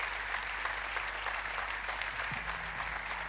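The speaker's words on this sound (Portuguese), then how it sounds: "Um aplauso para ele." Applause for João Batista at a presentation of Vozes do Além, a steady round of clapping from a seated audience, fairly quiet and even, over a low constant hum.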